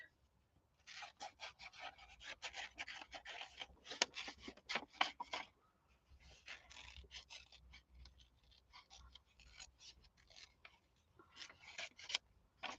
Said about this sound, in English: I'm just going to cut out these fish.